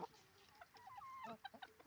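Chickens cluck softly in a farmyard, including naked-neck hens, with a few short broken calls close by in a quiet setting.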